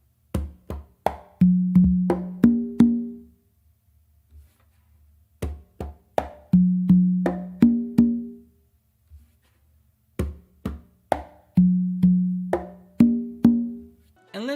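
Hand drum pattern combining slaps with open tones on the tumba, three repeated phrases of crisp strikes followed by resonant booming opens, played close and alone.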